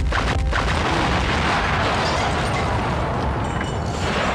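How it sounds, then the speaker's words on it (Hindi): A hotel is blown apart by explosives during an armed encounter, heard as a loud, sustained roar of blast and rumble that fills the whole stretch with dense, unbroken noise and no speech. "लेकिन आतंकवादियों ने कोई और चारा ना देखते हुए होटल ग्रीनवे को विस्फोटक द्वारा उड़ा दिया।"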